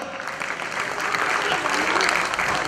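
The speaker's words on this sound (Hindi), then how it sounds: "तालियां बजती रहे।" A theatre audience at a stage play about Veer Chandra Singh Garhwali and the Peshawar incident claps in a dense, continuous wash of applause that builds slightly and stays loud throughout.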